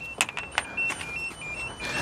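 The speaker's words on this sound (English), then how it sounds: "That's the key in warning" Key-in warning chime of a French car, a Citroën Berlingo microcamper, ringing as a steady high tonal beep over the cabin, mixed with a few key jangles and clicks, close by with no talking.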